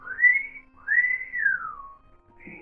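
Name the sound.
imitated loud whistle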